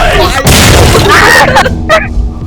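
A loud, close bomb blast in the horror video game The Bonerooms, with a heavy booming burst followed by rumbling debris and shorter pops, while excited voices shout over it.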